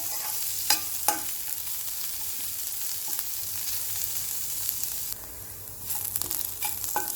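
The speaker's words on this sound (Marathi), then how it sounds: "कांदा हा अजूनही कच्चाच आहे, त्याला चांगला ब्राऊन होईपर्यंत शिजवून घेऊया." Chopped onion sizzles steadily in a pan as it fries toward brown, with occasional stirring scrapes and clicks and a short dip in the hiss near the end.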